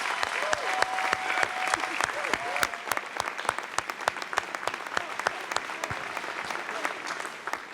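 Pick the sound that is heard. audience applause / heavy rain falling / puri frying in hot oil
audience applause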